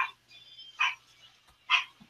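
A small teacup dog barks in short, sharp bursts, two clear yaps spaced about a second apart with a faint earlier one, fairly close and alone without talk.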